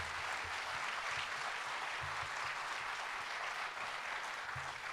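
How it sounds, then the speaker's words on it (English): An audience gives sustained applause, an even wash of clapping heard at moderate distance, with low thumps from a sound system underneath and no talking. "can you please give a huge round of applause to Justin and Lennon here?"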